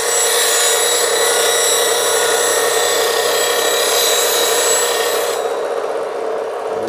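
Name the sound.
sharpening a lathe tool on a CBN grinding wheel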